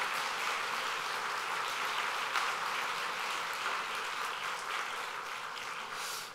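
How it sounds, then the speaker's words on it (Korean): Church congregation at an ordination service applauding in welcome, a steady, moderately distant patter of many hands clapping that fades slightly toward the end. "우리 박수 주시기 바랍니다."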